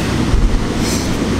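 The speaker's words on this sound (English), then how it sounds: "I got the train, bro." A train rumbles past, a loud, steady roar of rail noise with a faint rattle of wheels.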